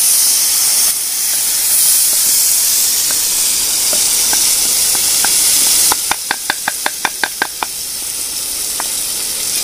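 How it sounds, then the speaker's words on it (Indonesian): Caterpillar sambal fries in a pan with a loud, steady sizzle and hiss. A quick burst of about ten sharp spatula knocks against the pan sounds in the middle, with scattered single taps before and after. "Oke, kita langsung goreng di"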